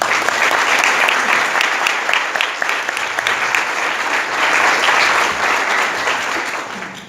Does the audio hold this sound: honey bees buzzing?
no